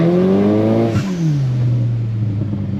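A modified Audi A4 B7 with a 2.0 TFSI engine in sport mode, its loud exhaust droning close by with a falling pitch as revs settle after a brief blip.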